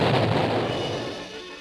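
A cartoon gunpowder charge bursts in a loud, close boom that rumbles and trails off over a second or so, with no voices over it.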